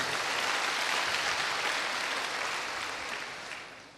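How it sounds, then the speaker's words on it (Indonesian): A church congregation claps together in a dense, sustained round of applause that fades out toward the end. "tepuk tangannya paling meriah buat Allah kita"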